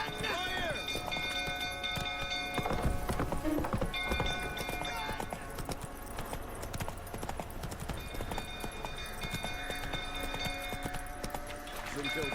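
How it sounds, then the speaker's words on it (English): A horse's hooves in The Witcher 3, galloping: a steady rapid clip-clop rhythm that runs throughout, layered with game music and a person talking over it. "Stupid horse keeps going everywhere"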